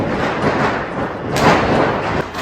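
Diwali firecrackers bursting around rooftops at night, a dense rumbling stream of pops and thuds with one louder blast near the middle, heard from a distance.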